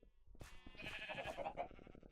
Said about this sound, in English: Somebody put a goat inside of here.